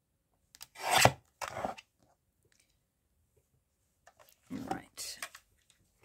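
Book page booklets trimmed to size, two pairs of short rasping cuts through paper, close and fairly loud, separated by quiet pauses.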